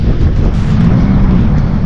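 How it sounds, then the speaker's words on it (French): Strong wind buffets the microphone outdoors at a car and vintage motorcycle meet in St Pierre, a loud, steady low roar filling the whole moment with no voices. "le vent est tellement fort"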